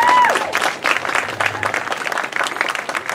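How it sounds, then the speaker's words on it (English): Audience at a songwriters showcase during a music festival applauds warmly, a full burst of many hands clapping close and steady for the whole few seconds, with a brief whoop at the start. "Another round of applause, please."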